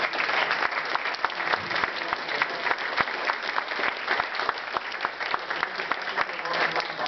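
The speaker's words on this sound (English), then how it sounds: "I'd like to give a round of applause to all the volunteers that helped here tonight" Audience applause fills a golf charity dinner for a rehabilitation hospital, steady dense clapping sustained for several seconds at moderate volume with no voices rising above it.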